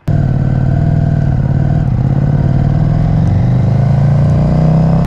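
KTM Duke 790 motorcycle ridden on a national speed limit road through the North York Moors, its engine droning steadily and loudly at cruising speed with wind buffeting and a slight pitch rise as it pulls.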